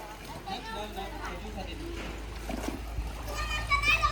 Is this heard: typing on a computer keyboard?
no